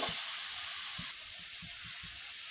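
Chili powder being sautéed in a pan for a dried-fish curry, a steady high sizzle with several soft low scrapes of stirring spaced through it, close and fairly quiet.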